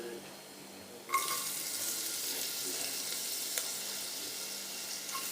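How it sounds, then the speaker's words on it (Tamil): Onions dropped into hot oil in a pressure cooker for a plain salna set off a sudden loud sizzle that holds steady and bright, with a faint clink partway through. "இப்போ இதில் வந்து வெங்காயம் ஆட் பண்ணிக்கிறேன்"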